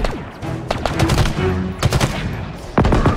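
Rapid bursts of weapon gunfire in the video game Halo Infinite crack out repeatedly, loud and close, over a busy layer of in-game effects and score.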